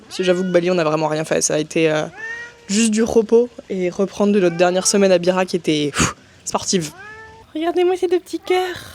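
A cat in poor condition meows repeatedly and insistently in short drawn-out cries, close and loud, interleaved with someone talking throughout.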